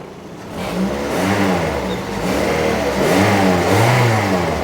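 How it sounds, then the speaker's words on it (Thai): Toyota Vios 2008 sedan engine revving up twice, mid-pitched harmonic rise and fall swelling strongly, steady loud idle rumble in between, close by with no talk. "เดี๋ยวผมเร่งให้ดูนิดหนึ่งครับ"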